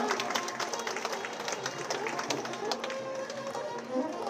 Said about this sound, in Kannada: ಎಲ್ಲ ಜಾನಪದ ಕಲಾವಿದರಿಗೂ ಮತ್ತೊಮ್ಮೆ ಬರಲಿ ಚಪ್ಪಾಳೆಯ ಪ್ರೋತ್ಸಾಹ